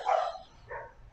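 A dog barks once, a short mid-pitched bark, followed by a softer second yelp and the start of another bark at the end.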